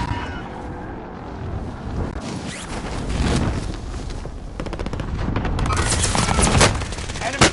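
Rapid automatic gunfire in a Call of Duty match, bursts of machine-gun shots rattling close and loud over a rumbling battlefield, growing denser toward the end, with game voices calling out in between.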